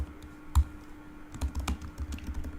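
Code is typed on a computer keyboard while writing a Salesforce Apex conditional statement: brief, close clusters of clicking keystrokes with short pauses.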